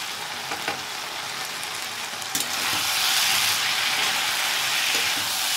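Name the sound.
spices and cauliflower being sautéed in a pan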